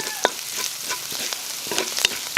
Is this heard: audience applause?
no